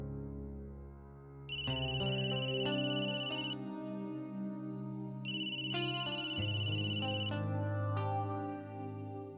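Electronic phone ringtone in a domestic TV drama scene, a loud melodic ring in two repeated bursts with a sustained tone between them, no talking.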